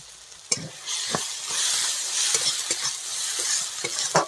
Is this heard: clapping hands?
no